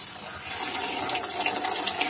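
Tap water pours steadily into a turtle's container, a continuous close splashing hiss with no talking.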